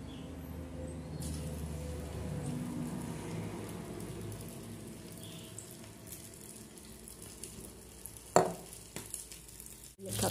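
Maakouda potato fritters frying in hot oil in a home kitchen, a steady low sizzle running throughout, with a few sharp clinks from utensils near the end.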